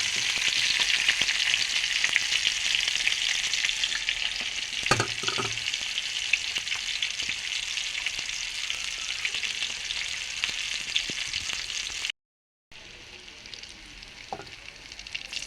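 Tilapia fish and potato curry frying in hot oil gives a steady, close, even sizzle that runs throughout. A brief stirring clatter comes in about a third of the way through, and the sound cuts out for a moment near the end.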